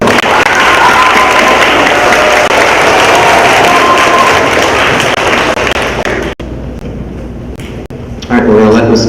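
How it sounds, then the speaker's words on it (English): Round of applause at a fifth-grade school promotion ceremony, loud sustained crowd clapping and cheering that fades near the end as a voice begins speaking. "Round of applause for Mr."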